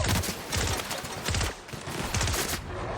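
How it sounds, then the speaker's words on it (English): Plasma pistol fire in the video game The Outer Worlds, a series of loud, rapid bursts at roughly half-second intervals, dense and continuous with no talking. "the plasma pistol kills them pretty quick"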